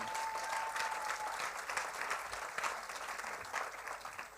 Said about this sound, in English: give them all one round of applause once again